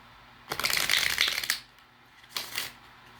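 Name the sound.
shuffling oracle cards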